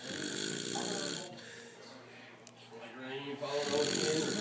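A man snoring with slow, rough rasping breaths, loud and close, while other people talk over it.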